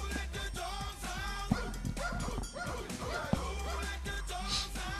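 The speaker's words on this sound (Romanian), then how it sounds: "Malinois este câinele nostru de sport" Belgian Malinois barking, yipping and whimpering in short repeated bursts at a sport dog training school, fairly close, with a voice heard speaking faintly in the background.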